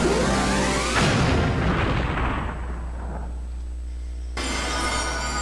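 A bomb blast in Zelda: The Wind Waker, a loud booming explosion that bursts out and rumbles away over several seconds, followed by a bright shimmering game chime.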